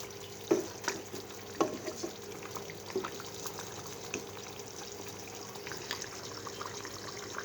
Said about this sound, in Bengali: আবার আমি ঢাকনাটাকে তুলে একটু দেখে নিচ্ছি, আবার একটু নাড়াচাড়া করে